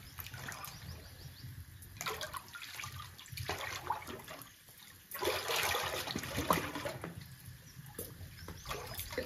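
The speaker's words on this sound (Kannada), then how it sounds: "ನೀರು ಇಲ್ಲಿ ಬರ್ತಾ ಇದೆ. ಇಲ್ಲಿಂದ ಸತತವಾಗಿ ಬರ್ತಾ ಇರುತ್ತಂತೆ." Water flows steadily and continuously into a temple pond near Bengaluru, a broad running wash that swells and dips in loudness, with no talk over it.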